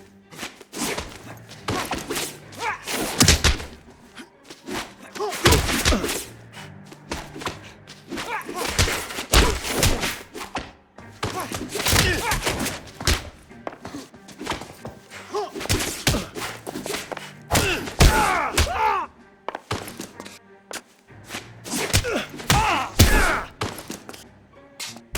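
Fistfight in L.A. Noire, with irregular heavy punches, thuds and scuffling impacts spread across the stretch, some louder blows, and grunting voices mixed in.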